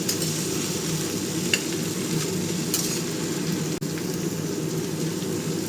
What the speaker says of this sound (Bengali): আলু, কুমড়ো, পুঁই ডাঁটা এইগুলো ফোড়ন দেওয়ার পর ভাজতে থাকছি